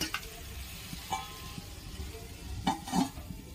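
Shikh chatu mushrooms stir-fry in a pan with a soft steady sizzle, broken by a few light scrapes and clinks of a spatula against the pan.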